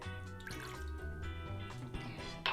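Water poured into a saucepan, a close, gurgling stream with dripping and bubbling tones that shift in pitch as the pan fills.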